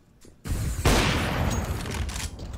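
Gunfire in Counter-Strike: Global Offensive, a loud dense burst of shots that starts abruptly and keeps a sustained crackling wash for about two seconds.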